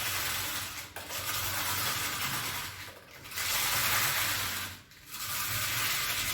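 A Saladmaster hand-cranked food processor with cone number 5 shreds cabbage in a steady, gritty cutting rush, broken by two short pauses, close and moderately quiet with no talk.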